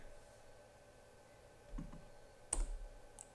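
A computer mouse gives a few faint, close clicks in a quiet room, with a brief louder click near the end.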